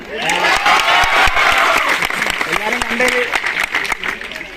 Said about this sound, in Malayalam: ഒരു കൈയടി കൊടുക്കാം